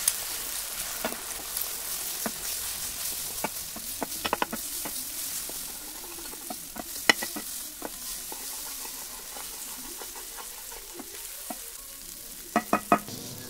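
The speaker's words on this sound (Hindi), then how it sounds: "3 अंडे मैंने यहाँ पर लिया है, नमक और काली मिर्च के साथ। उसको अच्छी तरह से स्क्रैम्बल कर देंगे।" Three eggs seasoned with salt and black pepper scramble in a pan of hot vegetable oil, giving a steady soft sizzle with scattered clicks of a utensil stirring and scraping, close and alone without talk.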